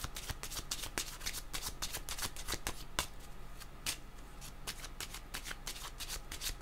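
Oracle cards being shuffled and drawn, a steady stream of crisp riffling flicks and sharp snaps, close and fairly quiet, with no voice over them.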